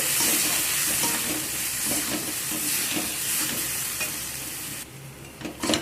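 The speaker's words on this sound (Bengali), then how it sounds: "দিয়ে সব কিছুকে আবার ভালো করে কষিয়ে নেব।" Ground spices are stir-fried in a pan for a jackfruit and prawn curry, producing a loud, continuous sizzle with scraping stirring strokes that eases near the end. No one speaks.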